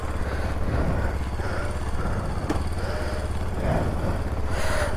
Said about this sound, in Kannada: ಗಾಡಿನ ಈಚೆ ತೆಗೆದ ತಕ್ಷಣ ಒಂದು ನಿಮಿಷ ಇಲ್ಲ 2 ನಿಮಿಷ ಆದರೂ ಆನ್ ಮಾಡಿಬಿಡಿ ಗಾಡಿನ.